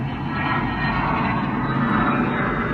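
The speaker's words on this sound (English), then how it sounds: "Sorry about that jet noise." Jet aircraft roaring near Luke Air Force Base, heard from inside a Cirrus airplane cockpit during startup as a loud, steady broadband engine rumble that fills the whole moment with no one talking.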